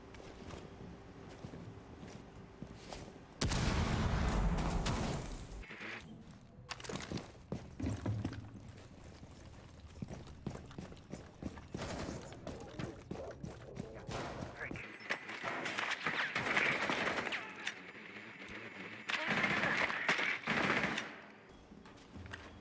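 Rainbow Six Siege gunfire in a collegiate esports match: repeated automatic bursts and scattered single shots over about twenty seconds, some close and loud, others distant, with a commentator talking throughout.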